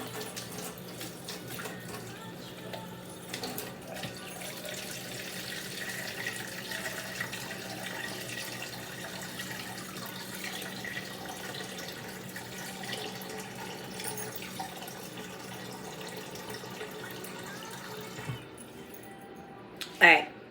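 A kitchen tap runs steadily for about twenty seconds, filling a container with lukewarm water for baking island bread, a constant soft rushing at moderate distance that stops near the end with a brief clatter.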